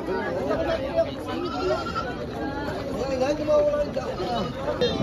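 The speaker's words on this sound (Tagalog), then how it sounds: "Ito yung mga kambing dito, oh." Goats bleat repeatedly at a livestock auction market in Lemery, Batangas, wavering calls rising over a constant crowd hubbub, with people chattering nearby throughout.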